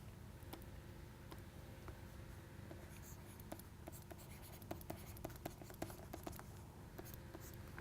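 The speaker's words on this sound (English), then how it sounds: "I will use the space down below to write it down." Chalk or marker writing on a board during a physics lecture on the classical ideal gas, heard as soft scratchy strokes and light taps over steady room hum, with no talking.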